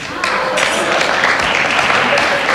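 A studio audience on the French game show Une famille en or breaks into dense, sustained applause that starts abruptly and stays loud, with voices mixed in.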